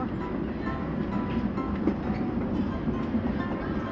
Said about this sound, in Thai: กำลังจะนั่งรถไฟกันแล้ว